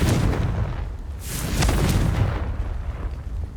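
A Confringo spell explodes in Hogwarts Legacy, a loud booming blast with a burst around the middle and rumbling low end throughout, with no talk.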